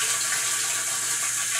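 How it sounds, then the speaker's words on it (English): Water falls and splashes steadily inside a home water softener's brine tank, heard close as a continuous bright hiss of running water with no break. "give you a close-up of the water dropping inside the brine tank"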